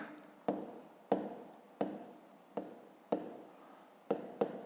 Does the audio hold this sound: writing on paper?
yes